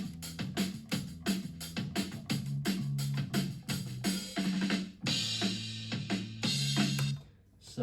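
A reworked drum roll sweeps into a rock pre-chorus over a full band mix, with repeated snare and tom hits building in a steady rhythm, loud and up front, with no talking.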